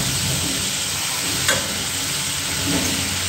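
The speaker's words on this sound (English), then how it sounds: "I should cover the pot while the chicken is frying" Chicken fries in a covered pot, giving a steady, dense sizzle and hiss that stays loud and even throughout with no voices.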